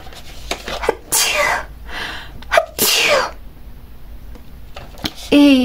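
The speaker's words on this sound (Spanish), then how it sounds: "Disculpen los estornudos." A person sneezes several times while drawing and painting fabric folds; loud, close, explosive sneezes come in separate bursts with short quiet gaps between them, and a voice speaks briefly near the end.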